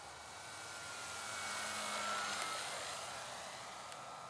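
An E-flite Timber X RC airplane makes a low flyby, its small electric motor giving a thin, steady whine that swells toward the middle as it passes close and then fades slightly, with no talking.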